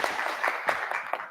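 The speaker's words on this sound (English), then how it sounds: "can we please give a round of applause for Aldo?" An indoor audience at an AI and business innovation event claps briefly, a short burst of applause with a few sharper individual claps, heard on its own with no talking.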